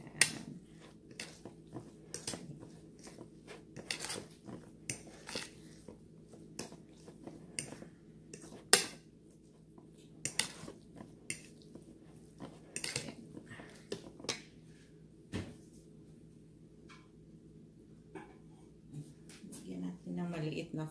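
Silver fish patty ingredients are stirred with a little flour in a bowl, with scattered clinks and scrapes of a utensil against the dish, some quick bursts and some isolated taps, close by and fairly quiet.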